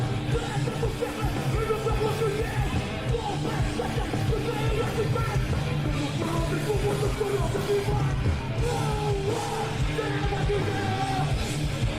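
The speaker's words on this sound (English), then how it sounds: "the gang shouts on one, and we step down into a half step there" Loud, dense heavy metal recording featuring group gang shouts layered over distorted guitars and driving drums, the chanted voices blending into a continuous wall of sound.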